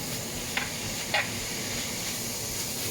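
Mince and skirt steak sizzle in a pan kept at high heat, a continuous close hiss of frying with a couple of small clicks and pops, no voices.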